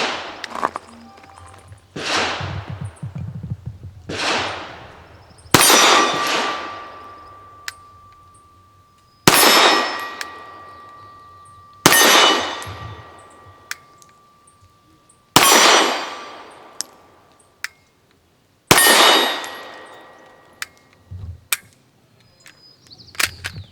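A Sarsilmaz ST9 9mm pistol fires Turkish Yavex ammunition loaded near NATO spec at an outdoor range, with about eight loud, sharp reports spaced a few seconds apart, each trailing into a long echoing decay.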